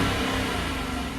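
A 2019 Dodge Durango R/T engine rumbles loud and steady while driving, a continuous deep drone heard close from inside the vehicle for about a second.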